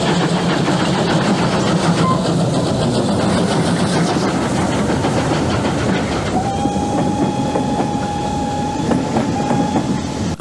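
An LSWR M7 steam locomotive hauls a special train up through a deep cutting away from Budleigh Salterton towards Exmouth. It gives a loud, sustained rumble with steady rhythmic chuffing and wheel clatter, and a high squeal joins in late, with no talking.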